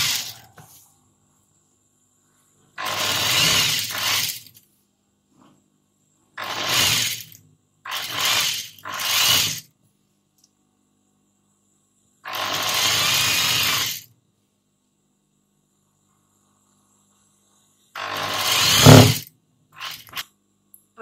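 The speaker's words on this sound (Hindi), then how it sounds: "ऐसे हम चारों तरफ सिलाई लगाएंगे" A sewing machine stitches around a kurti sleeve in short bursts of steady mechanical whirring, each lasting one to two seconds and separated by silent pauses, close and fairly loud.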